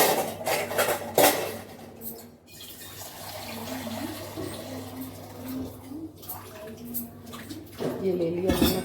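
Water is poured into gram flour (besan) in a kitchen bowl for a batter, with soft splashing, sloshing and light clattering of utensils, while someone talks over it.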